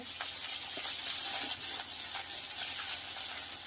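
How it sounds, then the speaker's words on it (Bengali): Garlic frying in hot oil in a home kitchen, a steady bright sizzle with small crackles and pops, close and continuous with no talking. "রসুনকে দিয়ে দিলাম রসুনটাকে একটু ভেজে নেব"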